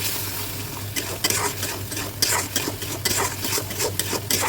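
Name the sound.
mustard seed masala frying in a kadai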